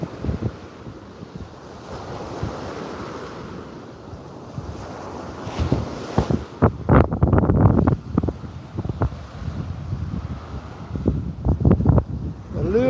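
Strong wind blows across a seashore as the tide comes in, roaring and buffeting the microphone in loud gusts over the wash of surf, with no talking.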